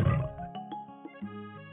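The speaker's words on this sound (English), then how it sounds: "Tiger." A tiger roar in a children's forest-animals sequence, a single low growling roar up front that trails into a tonal musical backing.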